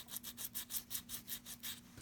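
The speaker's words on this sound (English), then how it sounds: "then refine the shape with a nail file" Nail file shaping a carved tupelo wood bird, an American goldfinch: soft, rhythmic rasping strokes, about ten back-and-forth passes in two seconds, close and quiet with no talk.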